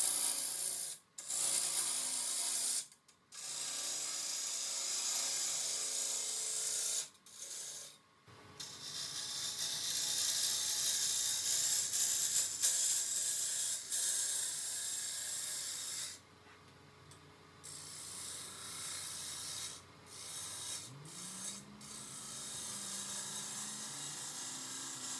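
A lathe gouge cuts the outside of a wet wood bowl, giving a continuous rasping, scraping hiss broken by brief pauses between passes, close and loud with no talking.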